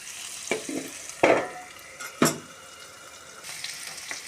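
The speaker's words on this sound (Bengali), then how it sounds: "নুন হলুদ দিয়ে আলুটাকে ভালো করে লাল লাল করে ভেজে নেব।" Potato pieces frying in a pan with salt and turmeric, a soft sizzle under a few distinct spatula knocks and scrapes, close and fairly quiet between the strokes.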